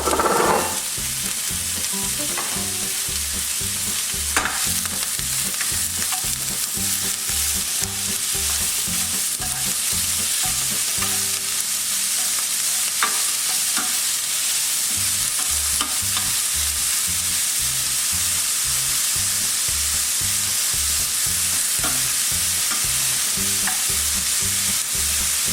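Onions and lardons sizzle steadily in a frying pan with a little oil for a tartiflette, a loud continuous hiss broken by regular scraping and stirring knocks throughout.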